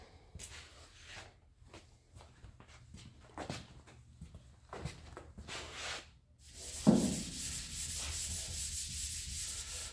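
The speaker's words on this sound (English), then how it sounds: "I got some 400 sandpaper here. And I'm going to hand sand the car on the top side of the car" Hand sanding a primed car body with 400 grit sandpaper, soft scattered rubbing strokes at first, then a steadier, louder continuous scrub near the end.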